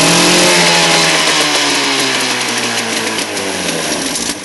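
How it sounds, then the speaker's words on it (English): A 1952 Mercury KH7 10 HP outboard motor revved up while running out of fuel, a loud, close, continuous buzzing drone that holds fairly steady throughout. "I'm going to rev it up a little bit too."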